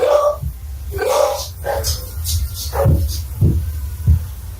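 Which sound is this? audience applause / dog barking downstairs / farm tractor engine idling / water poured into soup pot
dog barking downstairs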